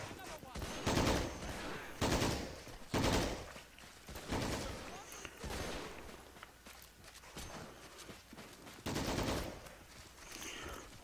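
Bursts of machine gun fire and scattered shots in the World War II strategy game Men of War: Assault Squad 2, coming in several loud clusters separated by quieter stretches of distant battle noise.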